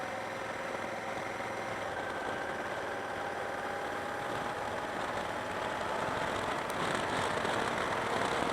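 A Honda Africa Twin DCT motorcycle engine runs at full throttle, a steady, dense roar with rising intensity that stays loud and continuous throughout, mixed with wind rush and no talking.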